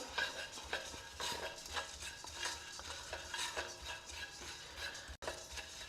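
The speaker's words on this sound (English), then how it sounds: "I will dry roast this also." Puffed ragi is dry roasted, stirred and scraped around a dry pan in a steady rhythm, with soft crackling and rustling throughout and a brief dropout near the end.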